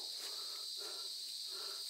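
Crickets chirp steadily in a faint, continuous high trill from nearby insects, with a few soft rustles and no talking.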